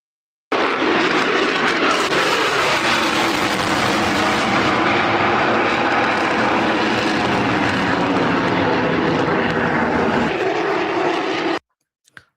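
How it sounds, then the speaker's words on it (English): An F-22 Raptor fighter jet flies past with a loud, steady broadband roar that holds for about eleven seconds and then cuts off abruptly. "And the F-22 Raptors are ready to fly."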